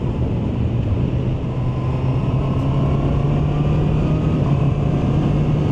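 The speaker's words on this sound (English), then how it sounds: "The exhaust sounds quite nice as well, I can hear that." Exhaust of a 2024 Honda CB650R E-Clutch riding along on a sunny day, a steady mid-loud buzzing drone that holds constant throughout with wind and road noise mixed in, no talk.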